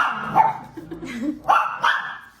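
A dog barks close up, a few loud yappy barks with short pauses and a low growl between them.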